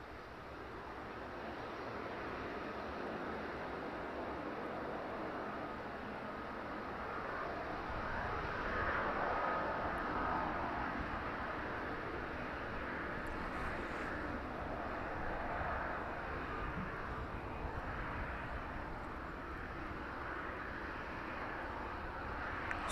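A Boeing 767 airliner taxies toward its stand at East Midlands Airport in the evening, a faint, distant, steady engine rumble and whine that swells slightly midway, with no voices.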